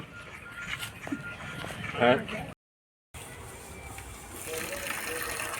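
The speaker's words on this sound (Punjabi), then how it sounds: "ਪਾਣੀ ਚੱਲ ਪਿਆ ਦੇ" Water gushing from a newly installed motor pump on a sports ground, a steady rushing flow that runs on after a brief cutout, with someone speaking over it.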